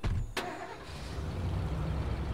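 Truck engine starting in the State of Decay video game: a sharp click and brief crank, then a low engine rumble settling into a steady idle.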